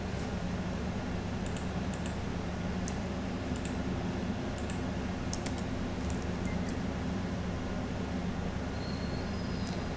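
Computer keyboard typing during a Tamil web-design tutorial on HTML, PHP and MySQL, a steady stream of light clicky keystrokes close by over a constant low hum, no talking.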